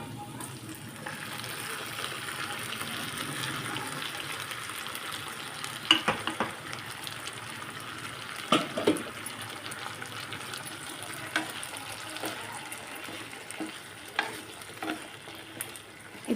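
Boiled banana stem stir-frying with onions in a pan, a steady close sizzle broken by scraping stirs and occasional clinks of the spoon against the pan, with no talking.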